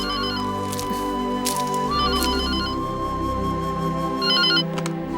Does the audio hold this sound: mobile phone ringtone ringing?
yes